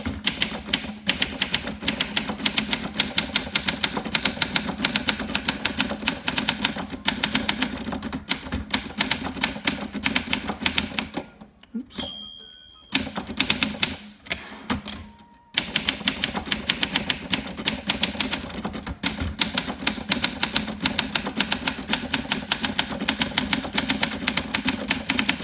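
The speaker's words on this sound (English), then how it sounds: "I really like the typing feel on Olympia SM3s" Continuous typing on a 1958 Olympia SM3 manual typewriter with carriage shift, a steady rapid clatter of keystrokes close up, broken near the middle by a carriage return bell ding and a short pause before the typing resumes.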